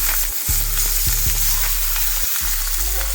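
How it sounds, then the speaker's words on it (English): Sausage browning in a hot frying pan gives a steady, loud, close sizzle, broken by a few sharp clicks and knocks from the pan, with no talk. "Put that in the pan. We're going to let this brown for a few minutes."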